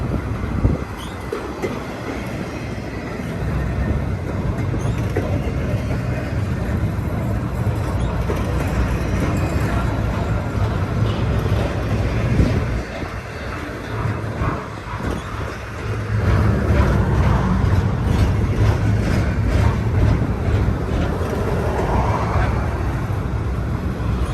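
A very long freight train rolls past at Verdemont, its steady, loud rumble and clatter of wagons on the rails going on without a break throughout.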